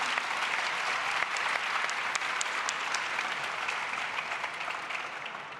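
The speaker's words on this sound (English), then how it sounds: "Big round of applause." An audience at a startup pitch day event applauds warmly, dense clapping from a sizeable crowd that holds steady for several seconds and then slowly fades.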